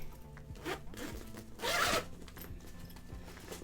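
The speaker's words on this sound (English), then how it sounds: "You have a zipper right here" Zipper being run along a bag during an unboxing, a few short scratchy zips, the longest and loudest near the middle, close up and otherwise quiet.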